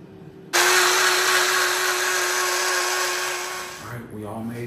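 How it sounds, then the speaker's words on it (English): A kitchen blender whirs loudly as it blends espresso with MCT oil, a steady high-pitched motor roar that starts abruptly and runs for about three seconds before winding down, with faint voices at the start and end. "All right, we're gonna put this in the blender with the MCT oil. You gotta use espresso, and we're gonna blend this up."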